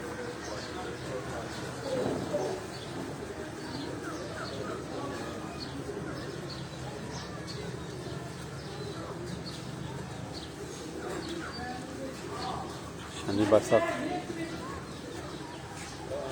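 Pigeons on a rooftop coo softly in the background, mostly masked by steady ambient noise, while people talk nearby and a short louder burst of activity comes near the end.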